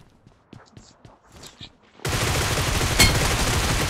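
Rapid automatic gunfire in the mobile battle royale game Battlegrounds Mobile India, a dense loud burst starting midway after quieter footsteps and movement, with one sharper crack near the end.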